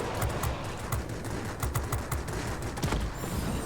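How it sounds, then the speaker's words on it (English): A Yak fighter fires its three 23mm aircraft cannons in World of Warplanes, a rapid, continuous stream of heavy bursts that stays loud and dense throughout. "there's actually three 23mm cannons on this plane, instead of the two that we had on the Yak-15"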